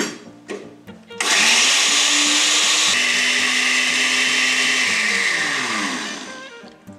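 A blender whirs loudly for about six seconds as it purees a sauce of garlic, cream cheese and coarse salt, starting after a few clunks and winding down at the end.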